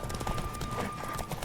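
Horse galloping in The Witcher 3, a quick steady clip-clop of hooves over a dense rumbling game mix, continuous for the whole brief stretch.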